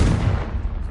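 A Confringo fire spell detonating in Hogwarts Legacy, one heavy low boom that starts loud and rumbles out over about a second.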